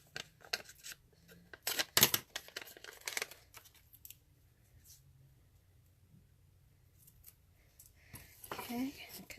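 Scissors snip through paper in quick bursts during paper crafting, with a louder cluster of cuts early on and soft handling rustles after, under occasional nearby talk.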